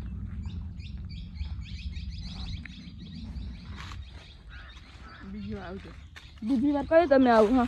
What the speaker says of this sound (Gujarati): હવે અહીંથી હે ને જો તમને કલરવ સંભળાશે શાંતિ